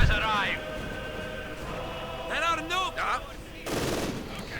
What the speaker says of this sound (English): Assault going on here, getting stopped there by the MG42.